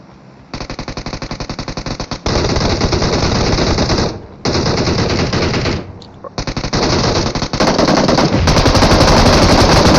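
Rapid automatic gunfire from the mobile shooter BGMI on the Livik map rattles in loud, close bursts, broken by short pauses before the firing resumes even more densely.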